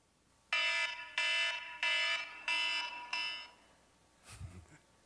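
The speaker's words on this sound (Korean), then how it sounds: "제 알람 소리는 이런 것입니다." Loud alarm clock ringing in five evenly spaced harsh electronic bursts, each roughly half a second long, played alone with a brief low thump afterward.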